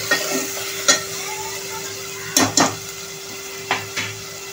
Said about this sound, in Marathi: म्हणजे बटाटे थोडे फ्राय होतील.